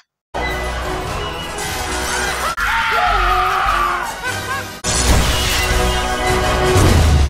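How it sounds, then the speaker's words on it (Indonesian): Loud, chaotic screaming and yelling from people being electrocuted in water, with sharp crashing noises cutting in and a frantic, sustained din throughout. "Teriakan terdengar di mana-mana."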